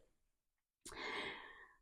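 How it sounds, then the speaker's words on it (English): A single sharp sneeze bursts out after a moment of near silence, close and fairly loud, trailing off in a breathy exhale. "I'm going to sneeze."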